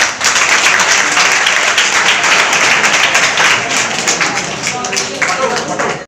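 An audience claps loudly and continuously for about six seconds, a dense, even roar of many hands that eases slightly toward the end.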